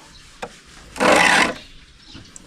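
A metal file rasps across the teeth of a saw to sharpen it in one firm half-second stroke, loud and close, with a couple of faint taps before and after.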